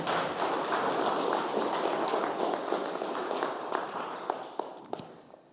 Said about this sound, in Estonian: teeme üks suur rikas aplaus pastor Alurile.